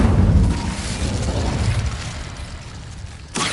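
Incendio fire spell cast in a Hogwarts video game, a loud whooshing fiery burst that fades into a rumbling crackle before a second sharp flare at the end.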